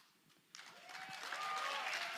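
An audience at a company general session breaks into applause after a quiet moment, the clapping starting abruptly and swelling into a steady, fairly distant wash of many hands in a large hall.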